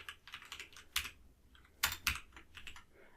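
Quick bursts of keystrokes on a computer keyboard, close and fairly quiet, in short irregular clusters separated by brief pauses.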